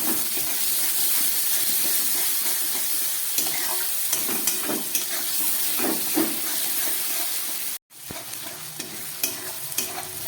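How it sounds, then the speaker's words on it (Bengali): Sliced onions fry in a pan with a dried red chilli, giving a continuous close sizzle broken by repeated scraping stirs. The sound cuts out briefly near the end and then resumes. "পেঁয়াজটাকে দিয়ে আমি খুব ভালো করে এবার পেঁয়াজটাকে ভেজে নেব।"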